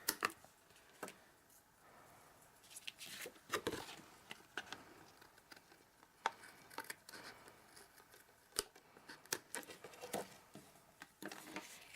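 Scissors trim paper for a Christmas card, a faint series of sparse snips and clicks spread across a quiet room.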